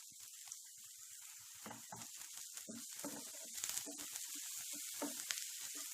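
Thin julienned ginger fries in hot oil for a Chicken Gola Kabab, a soft, continuous hissing sizzle with faint crackles, quiet and close.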